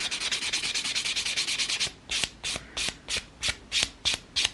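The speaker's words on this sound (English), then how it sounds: "pull down that side and buff out those scratches" Nail buffer rubbed back and forth across a fingernail to smooth out scratches: a fast run of steady scratchy rubbing strokes, then slower, separate swipes with brief gaps between them, close up and with no talking.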